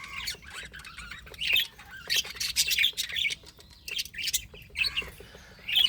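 Pet budgies and lovebirds, several of them unwell, calling in a cage: bursts of shrill chirps and squawks come in uneven clusters, moderately close, with quiet gaps between them.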